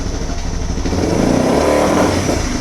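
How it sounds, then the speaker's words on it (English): A Suzuki DR650 motorcycle engine running lean sounds rough and loud, straining to rev up but bogging down instead of climbing, with a steady uneven idle throughout. "So it's definitely lean now. You can hear it doesn't want to rev up."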